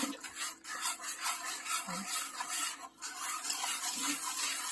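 A spoon scraping and stirring pineapple jam in a pot on the stove, repeated rough rubbing strokes in an uneven rhythm, close and fairly loud.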